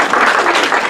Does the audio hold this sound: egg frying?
no